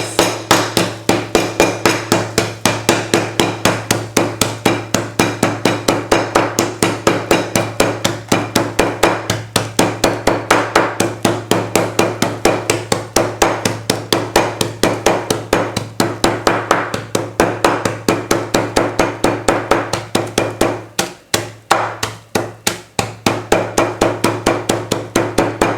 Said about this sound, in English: I'm going to use my hammer, or if you have a rolling pin, to break up all the pieces.